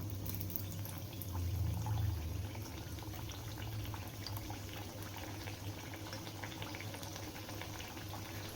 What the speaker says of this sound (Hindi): अब गैस को हम लो कर देंगे और एक एक करके हम जो मठरी हमने बनाया है ये डाल देना है।